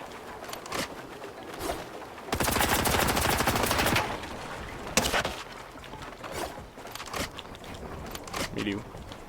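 Gunfire in Fortnite: a sustained rapid burst of automatic fire followed by scattered single shots and impacts, with a player talking over parts of it.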